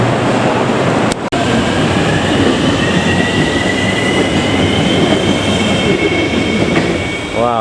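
An LRT train rolls into a station in Kuala Lumpur, its loud rumbling wheels and clattering cars dominating, with a rising motor whine and faint squeal as it draws near.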